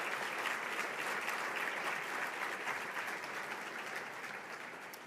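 Sustained audience applause fills a hall at an annual MLK breakfast after a musical performance, a steady dense wash of many hands clapping that slowly eases off, with no voices over it.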